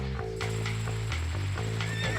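A horse neighs loudly in the Red Dead Redemption video game, a drawn-out whinny over steady game music, with a faint clip-clop of hooves alongside.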